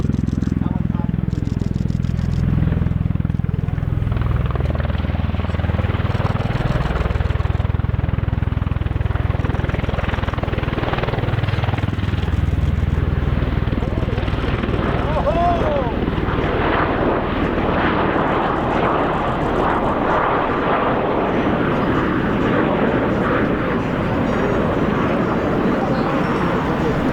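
A US Marine Corps MV-22 Osprey tiltrotor hovers at an air show, a loud, throbbing rotor roar with shifting low pulsing that swells and churns throughout, while an announcer talks over it.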